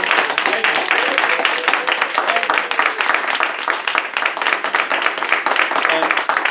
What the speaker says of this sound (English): Give our hosts a big round of applause.